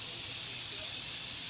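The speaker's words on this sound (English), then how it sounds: "We're just going to pour a little bit of water on there," Water poured onto a hot indoor grill set around 300 degrees hisses and steams in a steady close sizzle-spray lasting the whole moment.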